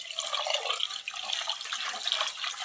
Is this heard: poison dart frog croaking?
no